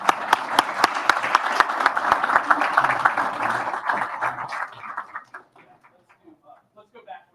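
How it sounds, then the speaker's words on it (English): An audience at a Board of Education meeting applauds with a steady, fairly loud clatter of claps. The clapping thins out into a few scattered claps near the end. "One last round of applause"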